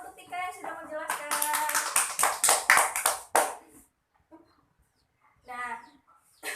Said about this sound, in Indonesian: Beri tepuk tangan untuk Tika yang sudah menjelaskan.